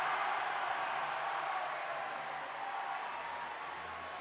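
A college hockey crowd roars during an on-ice fight, a dense, sustained wall of cheering that stays loud throughout with no clear voices standing out.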